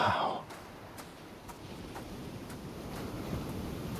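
Wind gusts in the video game Hades as a steady airy whoosh with a dull low rumble. A brief brighter burst opens it, then the wind settles and keeps blowing, with faint regular ticks over it.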